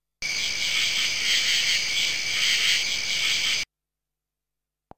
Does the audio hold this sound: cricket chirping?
yes